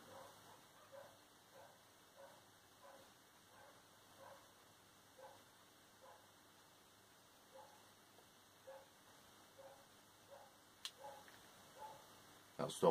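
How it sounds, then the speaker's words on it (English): Dogs bark in a steady, repeated rhythm, faint and distant, with a faint background hiss and a couple of sharper knocks near the end. "Dogs."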